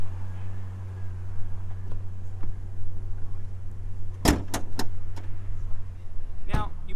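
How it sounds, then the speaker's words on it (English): Hood release of a 2019 BMW X5 being pulled, giving a couple of sharp close clunks and clicks around the middle and another thunk near the end, under a low steady hum with a voice speaking. "I'm going to pop the hood on this one."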